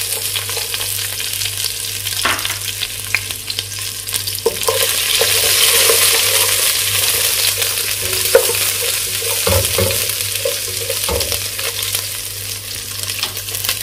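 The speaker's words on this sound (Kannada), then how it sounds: "ಹಾಗಾದ್ರೆ ಇವಾಗ ಗಾರ್ಲಿಕ್ ಹಾಕೋಣ" Garlic and cumin seeds frying in oil in a pan while being stirred, a continuous close sizzle with scraping spatula strokes and occasional knocks against the pan, no talking.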